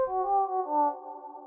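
A clean synth lead plays two sustained notes in succession, smooth and mellow with a gentle wavering swell, alone and clear.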